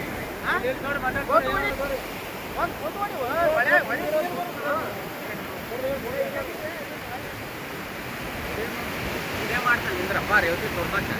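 High river water rushing past the Ganagapur bridge makes a continuous broad roar, with wind buffeting the microphone and people talking nearby throughout.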